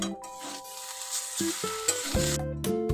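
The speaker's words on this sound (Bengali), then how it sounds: "আমি এগুলো সব ভালোভাবে নাড়িয়ে চাড়িয়ে নেব" A vegetable chop mixture with chopped coriander leaves is stirred in a pan, a steady sizzle with scraping strokes of the spatula running close by for a few seconds, with no talking.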